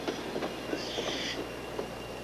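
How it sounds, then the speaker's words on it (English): A commuter train rolls through the Red Bank, New Jersey station on a deteriorated roadbed with rotting ties, giving a steady rumble with faint wheel clicks and a brief high squeal, heard at moderate distance with no talk. "See how the track recedes under the weight of the train at the Red Bank, New Jersey station?"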